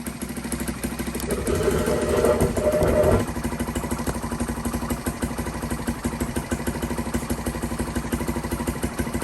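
A Lifan Pony motorcycle's small engine runs after a kick start, revving briefly for a moment and then settling into a steady, close, rapidly pulsing idle that carries on to the end.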